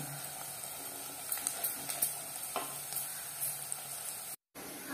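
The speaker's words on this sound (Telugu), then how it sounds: "చిన్న ఉల్లిగడ్డ కొంచెం వేసేసి దాన్ని కొంచెం సేపు ఫ్రై చేయాలి." Small onions and cumin frying in a pan, with a steady sizzle and occasional stirring scrapes, close and continuous, and a short gap of silence near the end.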